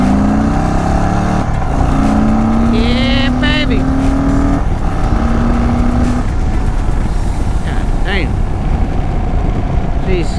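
A 2023 Indian Sport Chief motorcycle with 10-inch risers accelerates hard, its engine note climbing through gear changes in rising sweeps, loud and close over wind rush, with a voice briefly talking.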